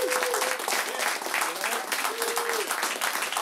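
A live comedy-show audience claps and whoops in a sustained burst of applause, with scattered cheers and shouts rising over the dense clapping throughout.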